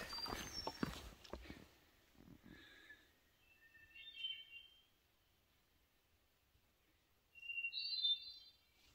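Birds calling outdoors on Mt Chocorua, giving thin vibrating whistles in a few short bursts separated by quiet, faint and distant, after some brief rustling at the start.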